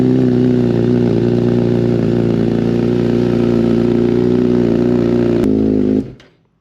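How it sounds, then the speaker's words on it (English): A high-performance motorcycle revs and idles loudly after a cold start, a harsh, buzzy, steady engine note close to the listener, with a sharp click near the end before it cuts off abruptly into silence. "Let's get a cold start."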